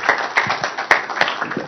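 A small conference audience gives sparse, distinct handclaps for a city minister of modernization, a few separate sharp claps in an uneven rhythm, close and fairly loud.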